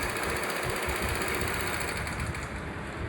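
A home sewing machine runs steadily and close by, giving a dense, continuous mechanical whir with a fast rapid stitching rhythm that does not pause.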